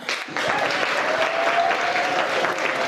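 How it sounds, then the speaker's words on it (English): Sustained applause from an audience at a celebration, starting after a brief quiet moment and holding steady and full for the rest of the clip, with scattered claps and cheering in the crowd. "I want you to give him a big round of applause"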